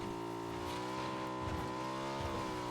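Engine of a vehicle driving in PUBG during an EU pro scrim match, a steady loud drone with harmonic whine rising and falling slightly as it revs, continuous throughout with no voices.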